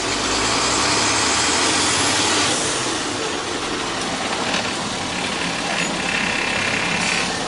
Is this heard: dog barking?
no